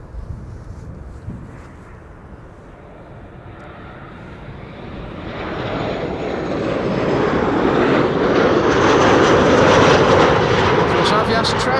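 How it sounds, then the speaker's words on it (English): A Transavia airliner, flight from Barcelona, arrives overhead, its jet engine roar swelling steadily from a distant rumble to a loud, broad wash of noise with some wind buffeting. "Transavia trash airplane, the TRA-8H, flight 5132, coming in from Barcelona."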